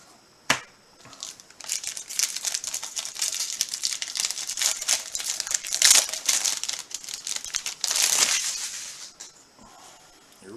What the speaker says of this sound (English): It's my first time opening these UFC packs here.